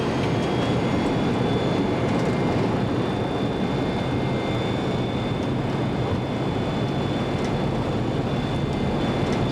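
Boeing 737-200 jet engines at takeoff power during the takeoff roll on a runway at Christchurch, a loud, steady roar with a thin whine above it, heard continuously from the cockpit.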